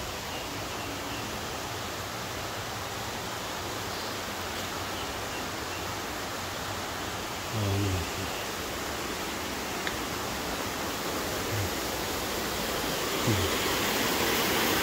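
A mountain stream in Dhading, Nepal rushes steadily nearby, a dense, unbroken wash of flowing water that stays even throughout with only faint incidental knocks.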